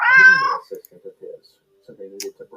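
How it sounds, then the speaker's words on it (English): A cat meows in a bright, high, wavering call at the start, followed by quieter low rumbling and a voice speaking nearby. "Oh, the cat's purring."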